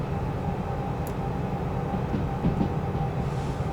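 Train rolling along the track in the Derail Valley game, a continuous low rumble with light wheel clatter and occasional brake squeal, moderately loud and steady.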